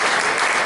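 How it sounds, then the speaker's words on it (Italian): Dense, steady audience applause fills a brief moment, honouring the tenor of the Coro Città di Trapani at an outdoor Sicilian poetry-and-choir event. "naturalmente il nostro tenore Teo Venta, che ha bisogno di un applauso maggiore"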